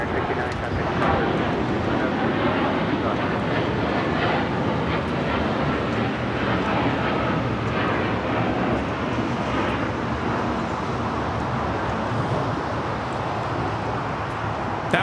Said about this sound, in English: That was Japan Airlines Flight 69 taking off to Osaka on the 787-9 Dreamliner.